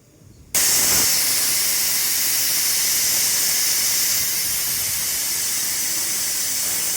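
A pressure cooker cooking rice lets out a loud, continuous steam whistle that bursts in abruptly and holds steady and close for several seconds.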